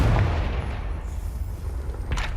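Confringo fire spell from Hogwarts Legacy, a loud booming blast at the start that rumbles and fades, with a smaller crackling burst near the end.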